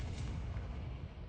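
Blasting spell cast in a Harry Potter video game, a dense, rumbling explosive burst that fills the whole moment with heavy, booming noise.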